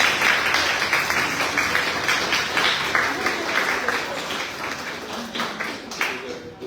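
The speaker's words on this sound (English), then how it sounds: "can we give a round of applause for other readers?" A crowd at a San Diego book cover reveal party and group poetry reading claps for the readers, a sustained patter of many hands that gradually thins toward the end.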